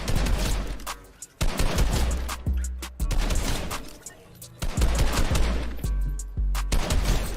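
Assault rifle fire in Fortnite shooting AI dummies as they drop: close, loud bursts of rapid gunshots in repeated volleys with brief pauses between, alone without talk.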